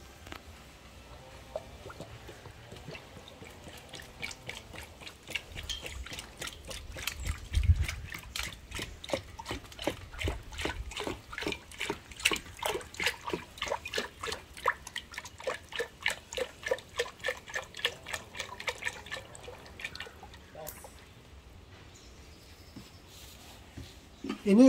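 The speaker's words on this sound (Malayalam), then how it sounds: "അതിലോട്ട് വെളിച്ചെണ്ണ ഒഴിക്കുകയാണ്." Coconut oil poured over danthapala (Wrightia tinctoria) leaves in a vessel gives a steady run of close, small liquid drips and trickles, irregular in rhythm, lasting throughout with faint room noise and no speech.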